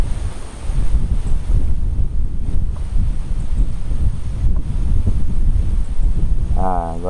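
Steady wind blows across a reservoir at Nazaré Paulista during a fishing trip, a loud, continuous rushing buffet against the microphone with a brief higher tone near the end.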